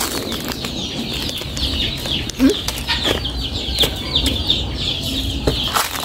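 Chickens cluck and call outdoors among other birds, a busy, constant backdrop of short clucks and chirps at moderate distance, with occasional sharper bursts and wing noise.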